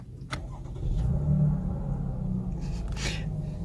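A 2017 Chevy Camaro with a 275 hp V6 starts with a short starter crank, then settles into a steady low idle rumble, close and fairly loud, with a few faint clicks near the end.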